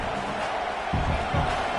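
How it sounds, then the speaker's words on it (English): Stadium crowd at a college football game in a steady, dense roar that swells in two louder surges, filling the space with broad noise. "Listen to this crowd just shaking the girders of this place, trying to help their defense"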